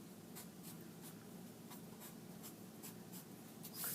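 A pencil drawing a feather on paper makes soft, close scratching with quick repeated strokes in a steady rhythm, alone and quiet, ending with a brief louder rustle.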